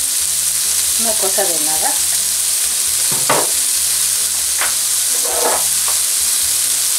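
Oil sizzles steadily in a frying pan while cooking yuca, a constant crackling hiss with a few utensil scrapes and stirring sounds, and a voice speaks briefly over it.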